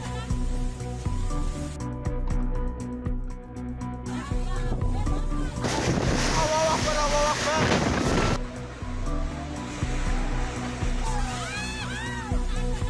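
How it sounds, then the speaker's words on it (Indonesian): Strong wind from a windstorm in Situbondo roars and buffets the microphone of a resident's handheld camera, loud and continuous with gusting surges, while voices talk in the background. "angin kencang terekam kamera amatir warga"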